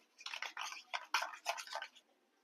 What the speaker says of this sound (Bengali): এবারে খুব ভালো করে ফেটিয়ে নেব